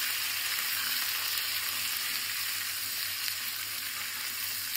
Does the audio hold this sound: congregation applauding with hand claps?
no